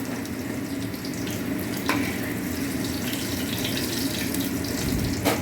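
Water poured slowly into a pan of fried paneer, a steady close splashing and sizzling hiss that runs evenly throughout, with a couple of brief clinks and no speech.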